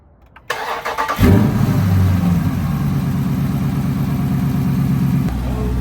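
A Dodge Charger Daytona 392 engine with a large aftermarket intake cranks and catches, then revs up and holds a steady, loud roar close to the microphone before dropping back near the end.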